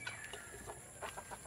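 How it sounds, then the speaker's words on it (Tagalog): Eleven-month-old Rhode Island Red chickens clucking, with a series of short, soft calls at a loose, uneven rhythm. The calls are faint and set against a quiet background, with no talking. "Ito mga Rhode Island Red, 11 months."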